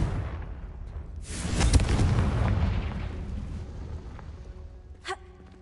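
A Confringo fire-blast spell explodes in Hogwarts Legacy, a sudden booming burst that swells and rumbles for a couple of seconds before fading, followed by a sharp smaller crack.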